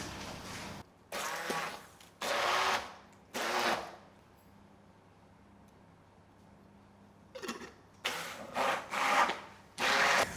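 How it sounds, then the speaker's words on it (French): A kitchen blender whirs in several bursts, mixing a recipe made with edible plants: two short pulses, a longer run, a quiet pause, then a cluster of loud pulses close to the microphone. "Et là, je vais mixer"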